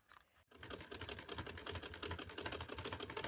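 A sewing machine stitching a neckline strip onto a garment, a fast steady mechanical rattle running continuously after a brief pause at the start, close and clear with no talk.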